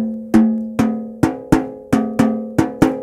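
A snare drum head is tapped at a single lug to check its pitch: eight sharp, evenly spaced taps, each ringing with a short resonant tone that decays quickly, close and alone.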